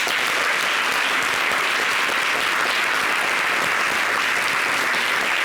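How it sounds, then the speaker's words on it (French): A talk show studio audience applauds loudly and steadily, a dense, even wash of clapping that lasts the whole stretch with no voices heard. "Donc, on applaudit pour tous."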